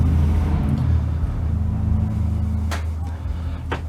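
A car or other road vehicle rumbles past nearby with a low engine drone that fades, then a couple of brief sharper noises follow.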